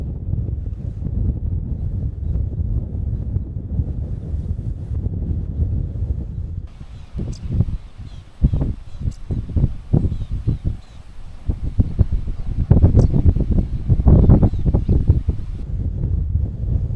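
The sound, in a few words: wind blowing on a cloudy, windy day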